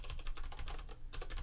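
Rapid typing on a computer keyboard, steady clusters of close, crisp keystrokes with a brief pause near the end.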